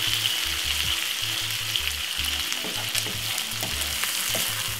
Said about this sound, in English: some ketchup, give this a stir.